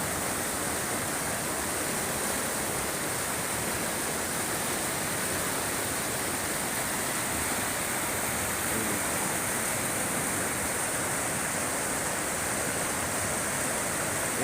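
A swift, shallow river rushes at a rafting spot, a dense and constant roar of flowing water that stays loud and even the whole time, with no voices.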